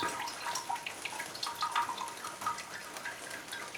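Water drains and drips from a large, freshly watered potted orchid held up over a tray, giving a steady patter of small trickles and drips close by with no talk.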